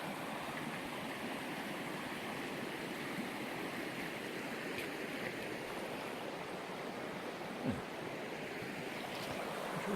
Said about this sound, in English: Interesting little stream.